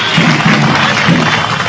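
A crowd at a political gathering in Jharkhand claps loudly and steadily, a dense close burst of applause lasting the whole moment.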